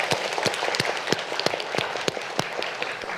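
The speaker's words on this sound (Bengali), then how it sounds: "তাদের জন্য জোরে তালি দিতে চাই।" Scattered, individually distinct hand claps from a studio audience at a televised election debate competition, fairly quiet and irregular over a faint room hiss.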